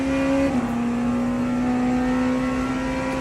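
Steady hum of a hypercar engine holding a constant note through a corner in a racing video game, with a brief shift in pitch near the start and no talking.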